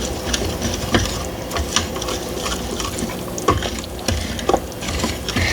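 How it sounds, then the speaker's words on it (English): Black-eyed peas being stirred with evaporated milk in an Instant Pot, giving steady wet scraping and sloshing with a few louder clinks of the spoon against the pot, close and continuous with no talking. "I'm just going to stir this"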